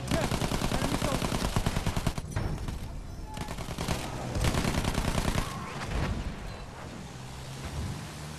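A Battlefield 1 aircraft gunner's machine gun strafes in rapid, loud bursts, rattling hard for the first couple of seconds, then breaking into shorter volleys and scattered shots amid wind and battle noise.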